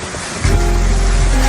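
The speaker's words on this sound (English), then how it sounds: "Ocean waves crashing against the shore." Ocean waves crash heavily onto a shore, a loud roaring surge of broadband noise that swells abruptly and then rumbles on continuously.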